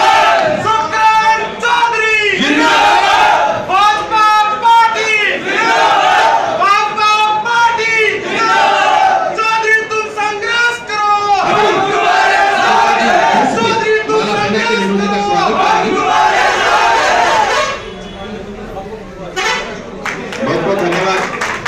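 Crowd at a political rally cheers and chants in loud, rhythmic bursts with scattered clapping and shouts, the voices surging repeatedly before dropping away near the end.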